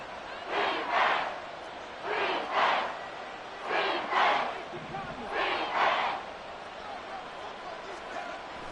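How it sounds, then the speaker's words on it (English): Football stadium crowd at a Saints game roaring in repeated loud swells, four surges of cheering and yelling that rise and fall over a continuous background murmur. "This crowd turning up the decibel level."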